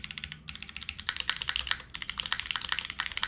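Close, crisp keystrokes on a custom mechanical keyboard in a steady, quick typing rhythm, each key giving a sharp clack with brief pauses between short runs.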